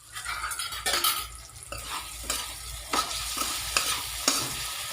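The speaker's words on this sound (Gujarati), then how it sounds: "એને હવે હલાવીશું." A spoon scrapes and stirs sabudana and potato khichdi in a hot pan with repeated rhythmic strokes, each under a second apart, over a constant close sizzle.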